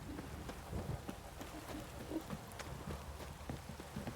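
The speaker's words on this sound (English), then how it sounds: "This downpour's a bastard" Heavy downpour in The Witcher 3, a steady broadband hiss of rain with scattered low thumps and a few clip-clop-like knocks, moderately loud and continuous throughout.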